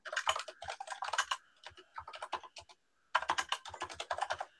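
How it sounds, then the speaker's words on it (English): Rapid clattering keystrokes on a loud computer keyboard come in quick bursts with a short pause, close and crisp, during an online meeting. "you have a very loud keyboard."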